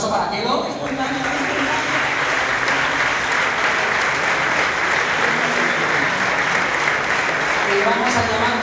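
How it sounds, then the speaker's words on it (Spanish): Loud, steady applause from an audience at an awards gala for a running circuit, continuous dense clapping filling the room from start to finish. "Un aplauso para Kelo."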